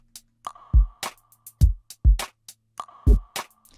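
Funk-style drum pattern from a Battery Funk 2 sampled kit: punchy kicks, crisp snares and busy hi-hats in a fast, syncopated groove, played alone and up close with no talking.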